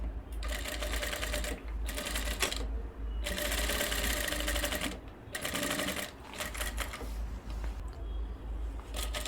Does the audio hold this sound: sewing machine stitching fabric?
yes